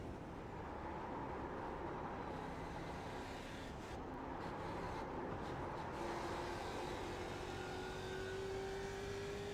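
Race car engine in the iRacing sim, from a Move'n Muscle league car, droning steadily and loud throughout with a rising whine near the end, alone with no talk.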